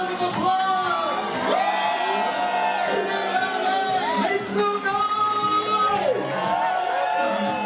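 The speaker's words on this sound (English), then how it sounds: "give her a round of applause!" A loud crowd cheers, whoops and shouts continuously, with excited voices rising and falling throughout.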